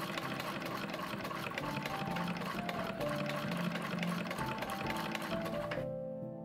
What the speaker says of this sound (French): je peux continuer à coudre mon ourlet.